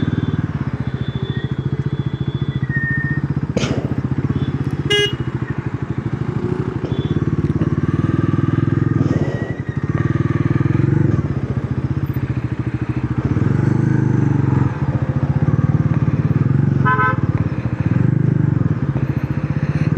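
A Bajaj Pulsar NS350Z motorcycle with a 349 cc engine is ridden steadily, its engine droning loud and close throughout while the revs rise and fall slightly.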